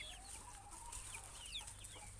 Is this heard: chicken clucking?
yes